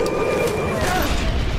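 Explosions in the video game Far Cry 4, a loud continuous rumbling boom filling the clip with crackling debris noise, with no talk over it.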